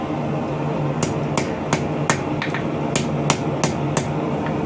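Hammer blows ring out on a medieval leaf-bladed arrowhead socket being forged, about ten sharp metallic strikes at a steady, slightly uneven pace, close and clear over a low background hum.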